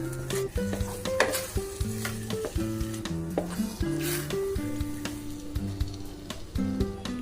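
A spoon stirs and scrapes a thick kalakand milk sweet mixture with ghee and cardamom in a pan, in repeated strokes over a soft sizzle, with music playing underneath.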